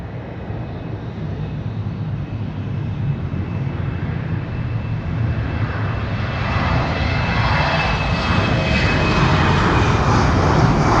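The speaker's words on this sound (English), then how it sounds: "next aircraft going to Amsterdam." A passenger airliner departs London City Airport for Amsterdam, a loud, continuous engine roar building steadily as the aircraft climbs away, with no talk.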